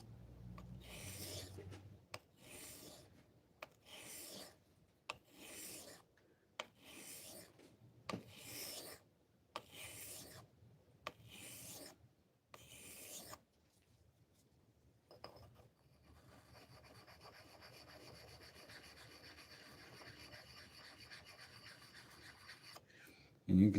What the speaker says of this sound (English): I might be doing a little more than just the sharpening, but some actual shaping of that edge. So I'm gonna kind of digress back to this 400 grit.